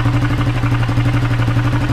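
A motorcycle engine with a vuvuzela held by hand over its exhaust runs steadily at a low, droning pitch with a buzzy pulsing tone, loud and close, with no clear revving surge.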